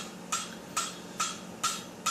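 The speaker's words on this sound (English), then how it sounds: "I'm using a 3-pound rounding hammer" A 3-pound rounding hammer strikes hot wrought iron over the anvil horn, drawing out a sword guard. Four sharp, ringing metallic blows land at an even rhythm about half a second apart, close and distinct.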